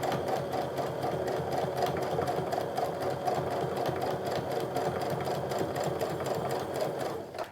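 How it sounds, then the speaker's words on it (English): A sewing machine runs steadily, top stitching along the edge of quilting cotton with a regular quilting needle, a continuous close, even whirring hum with no pauses. "I'm just keeping the edge of the foot lined up with the edge of that fabric to get a nice even top stitch as I go around"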